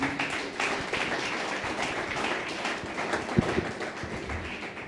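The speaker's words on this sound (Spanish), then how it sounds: "Un aplauso al Señor." A church congregation applauds for the Lord during an evening service, a steady wash of many hands clapping throughout with a couple of sharper taps near the end.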